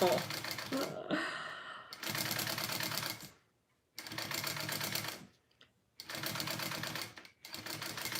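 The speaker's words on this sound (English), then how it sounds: "I'm not very fast when it comes to sewing this" Sewing machine stitching a Delmar wristlet runs in loud, steady bursts that stop and restart several times, with short silent pauses between runs and a brief higher-pitched whirring near the start.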